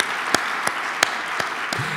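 An audience at a community gathering applauds in a steady wash of clapping, a few louder individual claps standing out at regular intervals.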